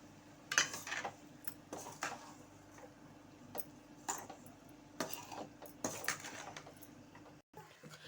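A spoon scrapes and taps in a pan while mixing carrot and beans poriyal with salt, soft irregular clicks and knocks, fairly quiet against a low room hum.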